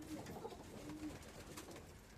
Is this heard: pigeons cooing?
yes